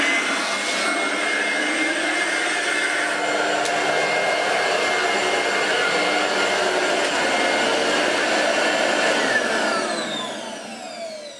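A Vorwerk vacuum cleaner runs without its power head, giving a steady loud whooshing motor roar with a high whine that holds evenly, then begins to drop away near the end.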